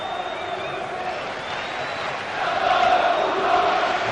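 Football stadium crowd at a 1995-96 UEFA Cup match, Lazio Roma against Lyon, applauding itself after its singing: a steady distant wash of crowd noise that swells into louder clapping and cheering in the second half.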